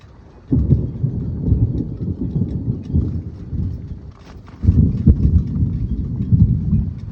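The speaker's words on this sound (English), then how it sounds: "as you can hear, the storms are rolling in" Deep, heavy thunder rumbles in two long rolls, the second starting abruptly after a quiet gap, with light rain patter underneath.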